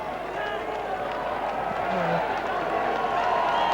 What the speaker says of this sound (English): Applauding this Cougar following because they've given them a hell of a reception